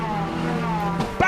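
Ford Fiesta race cars at Snetterton: close, loud engine whine with shifting pitch, then a sharp sudden knock near the end as cars touch, with a commentator talking over it.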